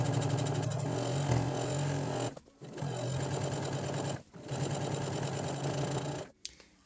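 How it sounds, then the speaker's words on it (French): A sewing machine runs in steady bursts while hemming fabric, finishing with a few back-stitches and a small locking stitch; loud, close whirring with two brief pauses between runs, no talk. "je vais juste repasser sur les 2-3 premiers points et faire un tout petit point d'arrêt"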